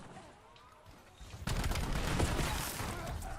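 Gunfire in Black Ops 7: after a quieter stretch of game ambience, a dense, loud burst of rapid shots erupts at close range and continues steadily to the end.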